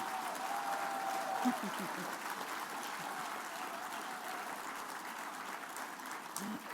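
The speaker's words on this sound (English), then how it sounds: "I think everybody needs to give another round of applause to Congresswoman Diane" A dinner audience at the Brotherhood Crusade gala gives another round of applause for Congresswoman Diane Watson, a fairly soft, even spread of clapping heard from some distance across the room, with murmured voices mixed in.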